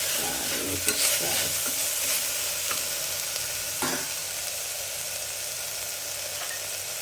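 Food frying in a pan gives a loud, continuous sizzle with a few scraping stirs near the start, then settles into an even hiss with no talking.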